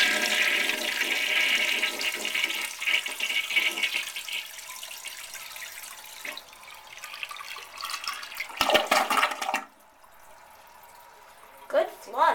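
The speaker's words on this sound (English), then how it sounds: "Good flush." A 1985 Kohler Highline toilet in bone color flushes loudly close by, a rushing surge of water that tapers into gurgling refill, while a person talks briefly near the end.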